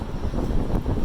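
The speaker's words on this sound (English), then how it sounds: "It's windy out here today." Wind buffets the microphone outdoors by the Baltimore Convention Center entrance, a continuous rough, gusty rumble with no voices.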